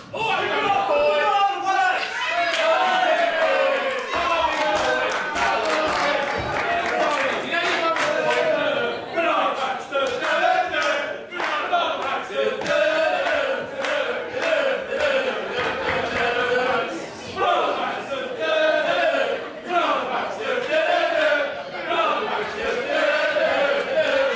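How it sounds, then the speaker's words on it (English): Spectators at a live pro wrestling show keep up a dense, loud wall of cheering, shouting and chatter, with a ringside commentator talking over the noise throughout. "Crowd getting under Ian Skinner's skin"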